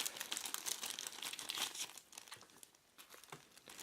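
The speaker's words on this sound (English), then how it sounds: "Let's pop the user manual out" Crinkly packaging rustles and crumples as a paper user manual is pulled from a mechanical gaming keyboard box, steady and close at first, then softer with scattered crackles.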